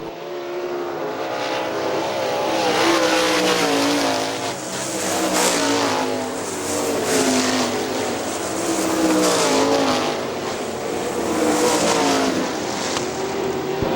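Sprint cars race around a dirt oval at Hartford Speedway Park, engines roaring loudly and continuously with the pitch rising and falling in waves as the pack passes, joined by occasional tire scrub, with no talk over it.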